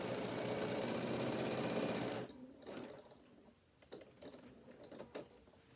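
Sewing machine stitching along the edge of a folded bag panel, a fast steady mechanical chatter for about two seconds, close and quiet, followed by scattered clicks and fabric handling.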